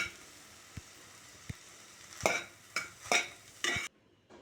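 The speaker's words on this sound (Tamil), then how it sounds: "நல்லா கிளறி விட்டு ஒரு டூ டு த்ரீ மினிட்ஸ் ரொம்ப லோ ஃப்ளேமில் வச்சு நல்லா பிளெண்ட் ஆகட்டும்" Beans paruppu usili is stirred in a pan over a low flame, a few sharp spoon taps on the pan followed by several scraping stirs over a faint sizzle, close and clear.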